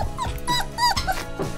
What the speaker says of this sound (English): A baby dog is called a puppy.